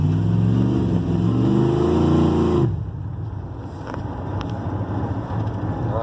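A 1988 GMC Sierra truck's 350 Vortec V8 running, a barn find started for the first time: a loud, close engine revs with rising and falling pitch, then settles into a lower, rougher steady idle.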